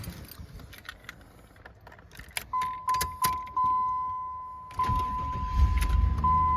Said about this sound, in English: So first I'm going to go ahead and start the car